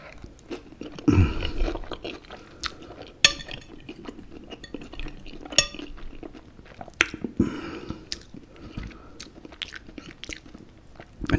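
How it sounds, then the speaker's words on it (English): Ravioli on toast eaten with a knife and fork, close-up chewing and soft bites punctuated by sharp clinks of cutlery tapping the plate, faint and intimate with no talking. "I'm going to get stuck into this, right? My ravioli on toast."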